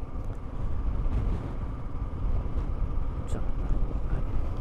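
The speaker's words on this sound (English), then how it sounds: "It's blimmin' windy as well as being very cold." Strong wind buffeting outdoors on a very cold day, a steady loud roar across the whole stretch, with a brief spoken word at the start.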